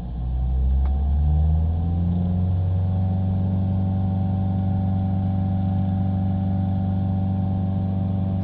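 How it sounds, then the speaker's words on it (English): A car engine, one fitted with a diesel particulate filter, revs up from idle to a little over 3000 RPM and holds there as a steady, loud, close rumble with no talking. "if we give it a rev up"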